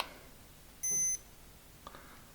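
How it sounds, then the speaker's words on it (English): Tommee Tippee digital no-touch forehead thermometer giving a single short, clear electronic beep as it switches on, followed by faint handling noise in a quiet room. "It beeps when it first comes on."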